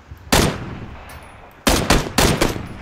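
Three loud, close gunshots in PUBG, one alone then a pair about a second later, each a sharp crack with a short ringing tail.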